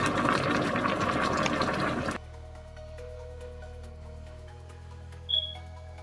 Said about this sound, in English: Next, you want to add a little bit of water to the pot.